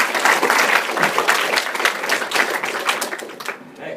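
Seminar audience applauding at the close of a science talk, dense steady clapping that fills the room and fades toward the end.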